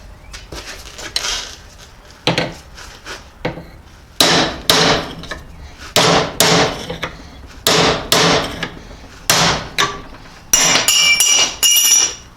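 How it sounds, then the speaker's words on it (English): A big hammer drives a punch to shear rivets off the sickle bar sections of a Gravely sickle bar cutter: about ten sharp, loud metallic strikes at uneven intervals, close up, with quiet gaps between them. "take a big hammer and a punch and just shear the"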